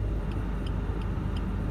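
An automatic car reverses slowly on a residential street with a steady low engine rumble. Faint regular ticks repeat over it, and no voices are heard.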